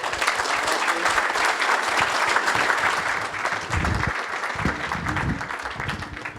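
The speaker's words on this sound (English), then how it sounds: "Please give a round of applause." Sustained audience applause fills a conference hall at a sports business winter meeting, steady and fairly loud, thinning slightly toward the end.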